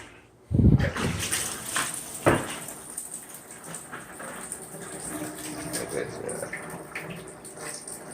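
Water runs steadily from a shower in a house under renovation, starting with a loud burst then settling into a continuous close spray, with brief talk over it.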